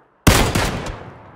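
A single loud gunshot from a first-person shooter video game, a sharp blast that rings out and decays over about a second.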